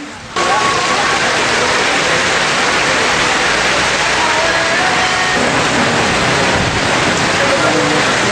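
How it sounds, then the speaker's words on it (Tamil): Heavy rain driven by strong gusty wind over Kanchipuram and Madurantakam in Tamil Nadu, a dense, loud, steady wash of hiss that runs unbroken through the whole stretch. "காஞ்சிபுரம், மதுராந்தகம் உள்ளிட்ட பகுதிகளில் சூறைக்காற்றுடன் மழை பெய்தது."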